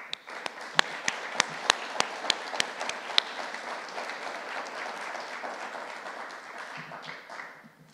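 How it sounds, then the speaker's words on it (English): An audience at a civic preservation awards ceremony gives a big round of applause, with a few loud, sharp claps punctuating a steady wash of clapping that fades out after about eight seconds. "if we could give them one more big round of applause"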